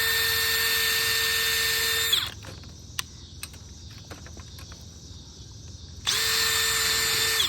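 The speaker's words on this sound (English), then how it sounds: "we're just gonna go ahead and pre-drill all the screw holes" A power drill pre-drilling screw holes for storm door hinges whines at high speed for about two seconds, falls silent with a few faint clicks, then spins up loudly again.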